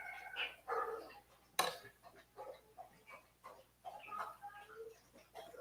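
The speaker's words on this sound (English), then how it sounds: "I got dogs barking." Dogs barking indoors during a live fishing rod wrapping session, several short faint barks scattered in a loose rhythm, with one louder sharp burst, alongside quiet talking.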